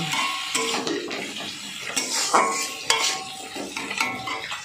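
Salt and turmeric being stirred in a pan while cooking rohu fish with broccoli curry: a spoon scrapes and clinks against the metal in irregular strokes, close and moderately loud, with no talking.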